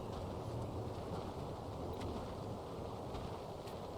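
Steady rain in Battle Chasers: Nightwar, a soft, even hiss with low rumbling wind underneath, constant and moderately faint throughout with no talking.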